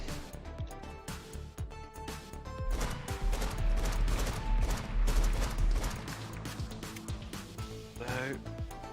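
Shotgun blasts and other gunfire in the video game Neon Coast, loud and dense bursts with a heavy low thump near the middle, layered over game music and sound effects.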